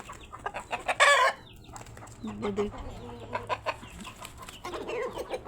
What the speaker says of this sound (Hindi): वो छोटा वाला मुर्गा है ना